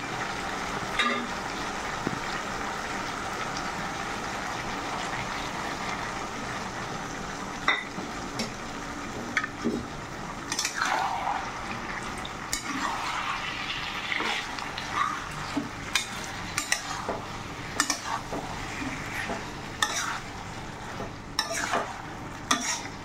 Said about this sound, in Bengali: এখন কাঁচা লঙ্কা, পোস্ত আর সর্ষে পেস্টগুলো দিয়ে ওপর নাড়াচাড়া করে আবার কিছুক্ষণের জন্য ঢেকে দেবো।